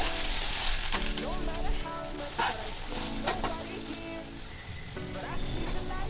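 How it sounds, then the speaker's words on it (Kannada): Okra fries with turmeric in a pan, giving a continuous sizzle and crackle with occasional stirring scrapes, while a voice keeps talking over it. "ಎಲ್ಲ ಲೋಳೆ ಇರುತ್ತಲ್ಲ ಅದೆಲ್ಲ ಹೋಗೋವರೆಗೂ ನಾವು ಬೆಂಡೆಕಾಯಿನ ಫ್ರೈ ಮಾಡ್ತಾನೆ ಇರಬೇಕು."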